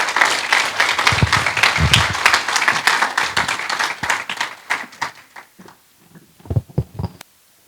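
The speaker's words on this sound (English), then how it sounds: "Can we get a round of applause for them" An audience at an Eritrean community event gives a round of applause for two moderators walking onstage, with dense clapping that thins into a few scattered claps and then stops.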